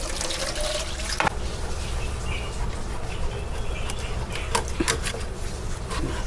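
Tap water runs steadily into a sink while fish is washed before cooking, a continuous close splashing stream with a few sharp drips and clinks over it.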